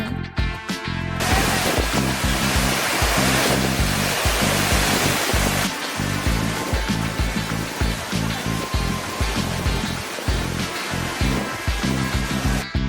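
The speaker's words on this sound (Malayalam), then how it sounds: "ഇന്ത്യയുടെ നയാഗ്ര എന്നറിയപ്പെടുന്ന ഈ വെള്ളച്ചാട്ടം ഏകദേശം 80 അടി ഉയരത്തിൽ നിന്നാണ് താഴേക്ക് വീഴുന്നത്" Athirappilly waterfall in Kerala, known as India's Niagara, plunging about 80 feet: a loud, steady roar of falling water that fills the whole clip with broad rushing noise, close and continuous, with no voices.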